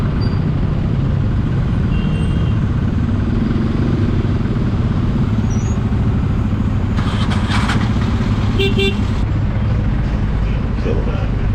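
A motorcycle rides at speed through traffic on the Mumbai–Nashik route, its loud, steady engine and road roar filling the clip, with brief hissing bursts from passing vehicles near the end.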